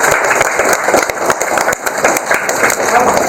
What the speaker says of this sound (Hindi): साथी के लिए जोरदार तालियां,